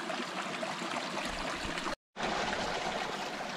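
Creek water flows over gravel at Catch Creek in Colorado, a steady close rushing babble broken by one brief dropout to silence before it resumes.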